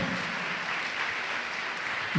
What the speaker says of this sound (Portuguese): Aplauda aquele que te fez mulher e que te fez mãe